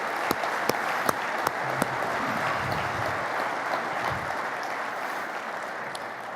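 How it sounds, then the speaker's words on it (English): A large audience at an Army aviation summit applauds soldiers' family members, dense sustained clapping filling the room at even loudness, with a few sharper individual claps standing out near the start. "I'd like a big round of applause for those family members."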